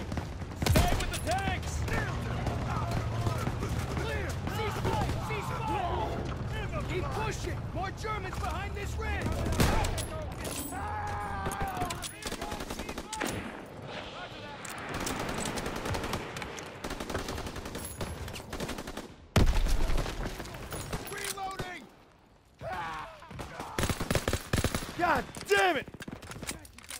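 An MG42 machine gun firing in the Call of Duty WWII video game, bursts of rapid gunfire and explosions in a chaotic battle mix, with voices talking over much of it.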